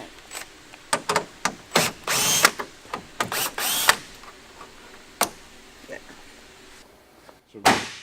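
A power drill removes the grille bolts on a third-generation Toyota Tundra in short close bursts of whirring, with clicks and knocks of tool and trim between them.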